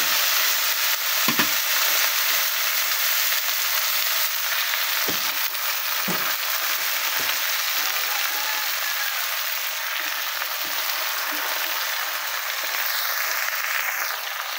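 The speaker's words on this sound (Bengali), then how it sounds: "আমি এবার শাক দিয়ে দেব।" Sweet potato greens fry in a pan with onion and chili, producing a constant dense hiss and crackle with a few soft clunks of stirring.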